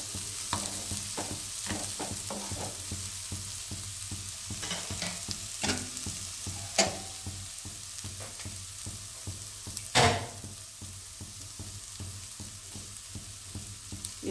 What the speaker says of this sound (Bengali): একটু কষিয়ে নেই, কষানো হয়ে গেলে আমি ডালটা এবার ছুঁকে দেবো।